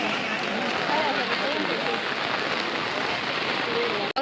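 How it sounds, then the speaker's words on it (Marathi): Steady, dense rain pours down over a crowded hillside temple of Gothanadevi in Malvan, a continuous close hiss of drops on surfaces with faint crowd voices underneath. "पाऊस पडता म्हणा"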